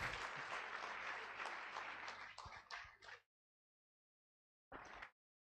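Dense applause from an audience at a university valedictory ceremony for a retiring professor, honoring the Vice-Chancellor, steady then breaking into scattered claps before stopping, with a brief burst returning after silence.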